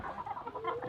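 Native breed chickens clucking in a backyard coop, a steady, moderately near murmur of overlapping clucks filling the short moment.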